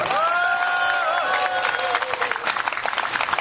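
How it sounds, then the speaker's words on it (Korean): A seated audience of adults and older people applauds the author Gong Ji-young after a talk, a steady wash of many overlapping claps, fairly loud and sustained, with a brief voice at the start. "우리 고생하신 공지영 작가님께 힘찬 수고의 박수를 보내주시면 고맙겠습니다"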